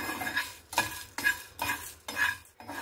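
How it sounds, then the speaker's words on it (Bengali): Dried chillies, peppercorns, cumin and coriander seeds are dry-roasted in a hot pan and stirred in four distinct bursts, each a close scraping rattle of seeds against the metal with brief pauses between, and no voices. "এটাকে আমি শুকনো খোলায় একটু ভেজে নেব।"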